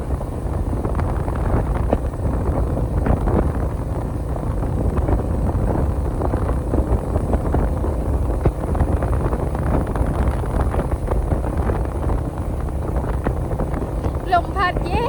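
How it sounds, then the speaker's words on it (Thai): Steady outdoor wind rushes and buffets across the whole stretch, a constant broadband roar with microphone gusting, while people talk over it at intervals. "ลมพัดเย็นเย็นมื้อนี้อากาศดีทุกคนบ่ร้อนปานใดอากาศดี"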